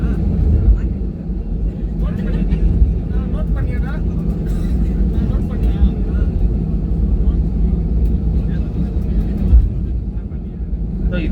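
Loud, continuous airplane engine roar during takeoff fills the cabin with a steady low drone, with faint voices and small clicks underneath.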